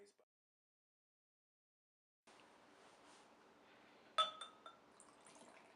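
Southern Tier 2XIPA beer pours from a bottle into a glass, a faint steady splashing fill that starts partway in, with a brief clink of glass near the end. No one speaks.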